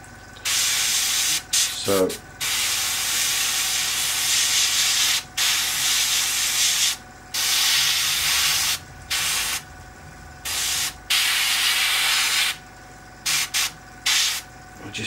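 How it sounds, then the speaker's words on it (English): Airbrush fed by an eight-year-old compressor sprays primer on a Revell 1/32 Messerschmitt Bf110 C-2 model kit, a loud steady hiss in long bursts broken by short pauses, with a brief word spoken. "She's done about 8 years on this compressor"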